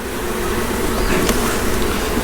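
Honey bees buzz around open hives during a warm-day inspection, a dense steady hum with individual bees droning close past now and then, no voices.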